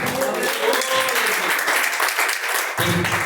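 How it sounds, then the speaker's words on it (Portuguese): Congregation clapping during a Pentecostal church service, rhythmic loud applause with faint voices and tonal sounds mixed in, a brief dip near the end before resuming. "Palmas que louvam a Deus"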